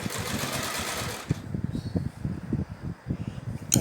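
A sewing machine runs a zigzag stitch along pillowcase fabric, a steady close mechanical whirr with a rapid pulsing needle rhythm that slows into uneven stitching bursts.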